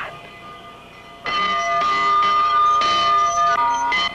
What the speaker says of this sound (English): he's responsible for ringing that bell